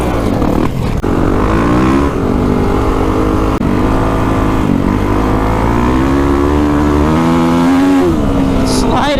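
Motorcycle engine in the desert doing clutchless downshifts while sliding around a corner, loud and close, with the revs rising and dropping repeatedly in a continuous growl as a voice talks over it.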